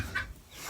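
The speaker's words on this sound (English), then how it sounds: "I'm pretty sure that's going to be a rooster right there" A rooster on a farm gives a brief, close cluck followed by a softer fading call, heard alone with no talking.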